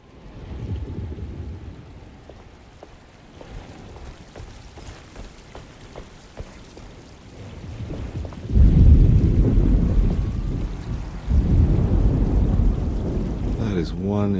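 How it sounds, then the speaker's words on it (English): A thunderstorm in the Alone in the Dark video game: rain hisses steadily while thunder rumbles and swells into heavy rolling bursts over the second half, loud and close. "Just keeping an eye out for the storm. Radio says it could be a wild one."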